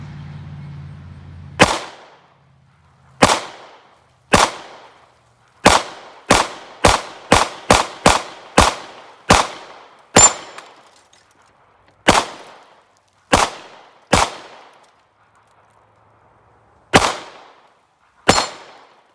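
A Taurus TH9c pistol fires about fifteen single gunshots at an unhurried pace, each a sharp loud crack with a short ringing tail, close by.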